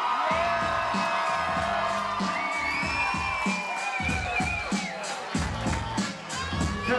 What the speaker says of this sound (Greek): Το μεγαλύτερο, γαμημένο μεγαλύτερο χειροκρότημα από εσάς για εσάς,